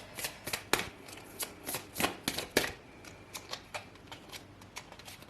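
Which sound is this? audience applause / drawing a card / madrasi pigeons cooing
drawing a card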